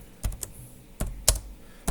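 Several crisp computer keyboard keystrokes typing a PowerShell command, spaced irregularly across a short burst, close and clear with no talking.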